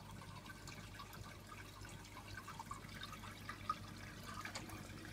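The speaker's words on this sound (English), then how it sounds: "that's a fair amount of water coming out of there" Water gushes from the overflow of a 200-gallon reef tank, a faint, steady trickling and splashing flow with small irregular bubbling spikes over a low pump hum.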